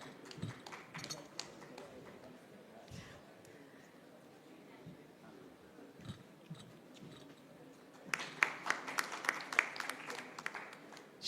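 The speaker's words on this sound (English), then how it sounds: "Let's have a huge round of applause." Applause from a conference audience at a transport-industry session, a low, steady patter of claps through most of the stretch that swells louder and denser near the end, with some talk mixed in.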